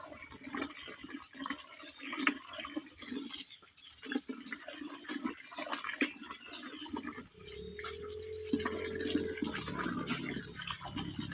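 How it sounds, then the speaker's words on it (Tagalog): Tap water runs continuously without being shut off, a steady broadband rush of flow that holds throughout, with a low hum joining near the end. "Running water kung tawagin ba."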